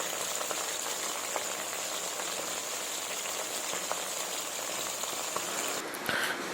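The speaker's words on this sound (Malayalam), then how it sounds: "ഒരു 1/2 കിലോ സൺഫ്ലവർ ഓയിൽ ഒഴിക്കുക. അതിലേക്ക് ചിക്കൻ" Small chicken pieces frying in half a kilo of sunflower oil for homemade chicken noodles, giving a steady, moderate bubbling crackle with occasional sharper pops, briefly disturbed by a clatter near the end.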